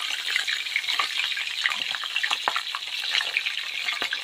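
Marinated sardines fry in a pan with a dense, loud sizzling hiss and scattered pops and crackles, steady and close throughout.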